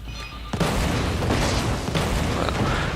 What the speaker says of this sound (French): Là, il explose à chaque fois qu'il touche par terre.